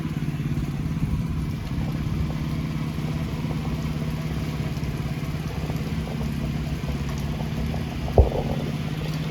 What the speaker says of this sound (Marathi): नांगरावची मशीन